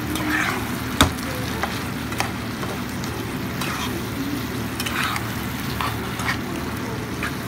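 Chicken jalfrezi stirred in a pan after sugar goes in, a steady low sizzle of frying with scraping spatula strokes and a few sharp clinks against the metal.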